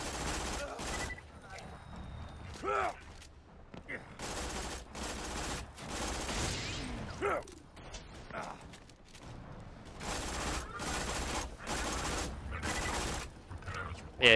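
Rapid automatic gunfire in the video game Borderlands 2: dense bursts of shots repeat throughout, with brief pauses and mechanical clicks between them, while a person talks quietly underneath.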